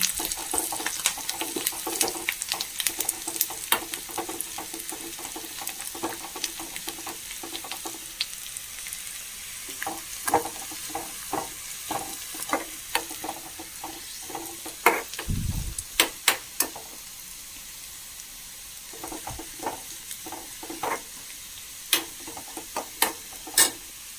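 Onions with crushed chilli fry in a pan while a spoon stirs them, giving a steady sizzle broken by scattered scraping clicks, with a brief low thump midway and no talking, for a breakfast oothappam dish.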